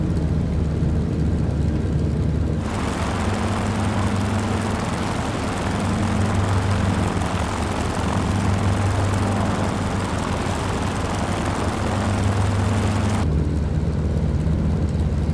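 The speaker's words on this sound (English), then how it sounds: "we're going to open the prop to fully fine. Oh, beautiful sounds." T-6 Texan propeller engine in a flight simulator, prop set to fully fine: a loud, continuous droning roar with a throbbing beat that swells in after a quieter start and cuts back near the end.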